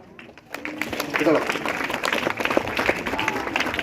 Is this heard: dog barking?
no